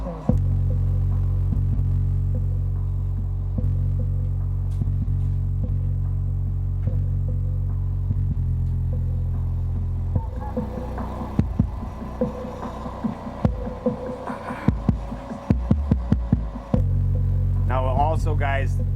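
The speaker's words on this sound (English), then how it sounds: "the vibration that you're hearing, you're not going to hear any of that when the subwoofer's flipped over inside your vehicle" Powered Seismic Audio SA-SSCS12 shallow mount 12-inch subwoofer playing bass out in the open, a loud, steady low throbbing rumble with vibration rattles, broken up midway by irregular buzzing and clattering thumps.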